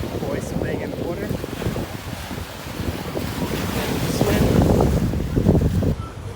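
Atlantic Ocean waves wash in at the beach in Georgetown on a Sunday morning, a continuous roaring surf with gusting wind buffeting the microphone, swelling louder midway.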